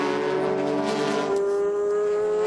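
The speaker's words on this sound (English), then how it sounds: "comes up behind the GT300 leader. That's the Jim's Ferrari, Jim Gaynor Ferrari" A Ferrari GT300 race car in the 2006 Super GT round at Motegi roars past, its loud engine note sweeping in pitch as it goes by, with a strained tone near the end.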